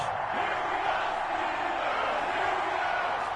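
Crowd noise fills the stadium before a Chicago Bears versus Pittsburgh Steelers game in Madden NFL on EA Sports, a steady, distant roar of a large crowd that holds at moderate level throughout.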